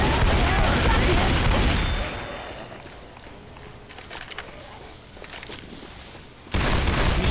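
Loud bursts of gunfire from the video game Left 4 Dead 2, rapid dense shooting at the start, scattered shots in the middle, then another heavy barrage at the end, with voices talking underneath.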